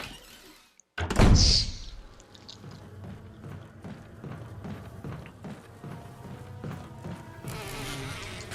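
Swarming bees buzz in Resident Evil Remake, a dense insect drone rising after a sudden thump and holding steady over a murky game soundscape with scattered knocks.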